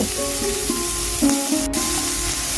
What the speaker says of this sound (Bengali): এবার ঘিয়ের মধ্যে তেজপাতা আর গোটা গরম মশলা দিয়ে দেব তারপরে আমরা কেটে রাখা সবজিগুলোকে দিয়ে ভালো করে মাঝারি আছে ভাজব